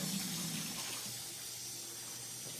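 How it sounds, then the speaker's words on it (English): Rinse water pouring into a washing machine tank, a steady broadband rush of filling water that is fairly faint and continuous, with no talk. "And now it's going to start filling the tank again."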